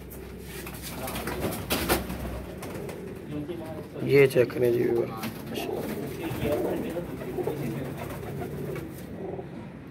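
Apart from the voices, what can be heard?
flying pigeons cooing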